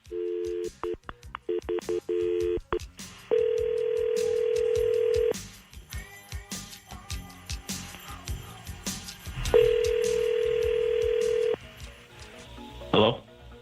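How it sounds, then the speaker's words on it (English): A telephone call is placed: a quick run of touch-tone dialing beeps, then two long steady ringing tones separated by a pause, with some faint background sounds in between. "We're calling him up and we're hoping that the flowers go to Felicia"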